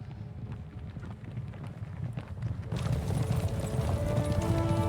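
Horse hooves stomp and clop in the medieval open-world game Kingdom Come: Deliverance 2, a steady low thudding gait under wind noise that grows louder and fuller partway through.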